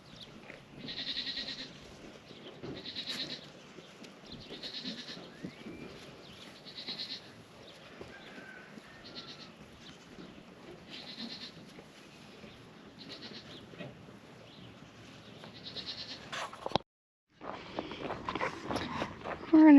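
Goats on a farm bleat repeatedly at a moderate distance, with footsteps and shuffling around them and a brief silent gap before a louder burst of bleats at the end.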